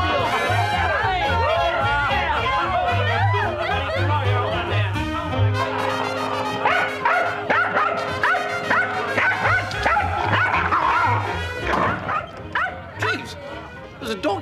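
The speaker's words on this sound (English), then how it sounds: "There's a dog in there." A small dog inside a London flat yips and barks repeatedly over loud music and lively chatter, with someone talking near the end.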